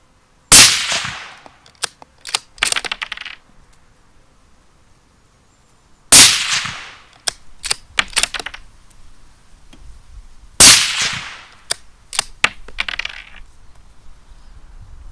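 A suppressed Schultz & Larsen Legacy rifle fitted with a lightweight moderator fires three loud, sharp reports several seconds apart, each followed by a burst of metallic clicks and clatters, with no talking.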